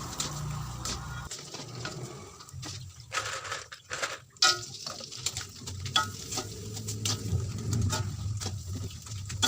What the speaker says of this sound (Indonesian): Jadi aku menggoreng kerupuk terlebih dahulu, tidak banyak, hanya satu toples kecil